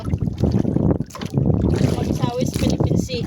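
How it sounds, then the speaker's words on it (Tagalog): Wind over a rough, choppy sea heard from a small boat offshore in the early morning, a constant blustery rumble and buffeting with sea wash underneath. "Medyo magalaw yung dagat, tapos may kunting hangin."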